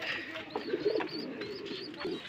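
Pigeons cooing close by, soft repeated throaty coos over a low hum of other birds, continuous through the short stretch.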